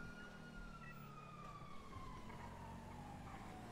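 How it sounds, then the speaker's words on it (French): Police sirens wail faintly and continuously in the distance over a steady hum of traffic in a GTA roleplay game, with no talking. "T'entends les sirènes, t'essayes de te repérer"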